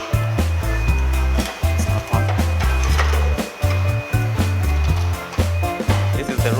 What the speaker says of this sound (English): we place that pot on the cement mortar mixer